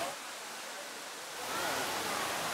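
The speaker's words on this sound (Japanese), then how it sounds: "水しぶきが飛んできます、すごい。" An indoor waterfall in Singapore sends up spray with a steady, broad rushing hiss. The hiss swells a little louder partway through, with no talk.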